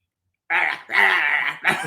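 A man imitates a barking junkyard dog with rough, harmonic vocal bursts: a short bark, a longer sustained growling bark, then a final burst, loud and close after a brief silence.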